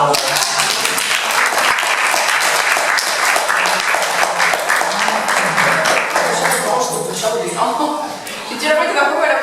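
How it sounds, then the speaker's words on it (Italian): A crowd applauds in a sustained round after a school announcement, the dense clapping running nearly ten seconds under overlapping voices and light laughter. "Dobbiamo fare un applauso."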